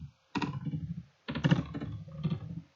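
Fingers type on a computer keyboard in two quick bursts of close, crisp key clicks separated by a short pause.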